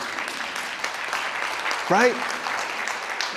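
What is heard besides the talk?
audience applause at a keynote speech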